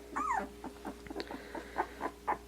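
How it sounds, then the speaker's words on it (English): Week-old puppies whimper and yelp close by, a high wavering whine at the start followed by a string of short soft squeaks and whimpers in uneven rhythm, with no talking. "I'll just let you enjoy the puppies now for about a minute."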